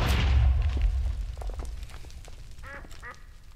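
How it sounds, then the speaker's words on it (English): An explosion in modded Minecraft: a deep, rumbling boom at the very start that fades over a second or two, followed by scattered quieter game sounds. "what kind of explosion was that?"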